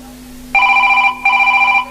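A mobile phone rings with a call from an unknown number: two loud, close bursts of a bright electronic ringtone separated by a short gap, with no talk over them.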